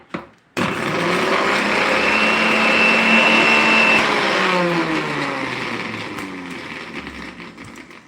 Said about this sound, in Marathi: हे सर्व मसाले मी मिक्सरमध्ये काढून घेते